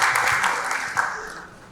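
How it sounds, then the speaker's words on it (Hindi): An audience at a formal ceremony claps loudly for the Maharashtra Minister of Transport, the dense applause gradually fading away over a couple of seconds. "एक बार जोरदार तालियां हो जाए एवरीवन हमारे माननीय मंत्री जी के लिए।"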